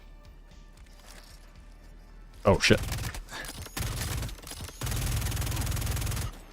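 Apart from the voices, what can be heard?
big explosion in the video game Star Citizen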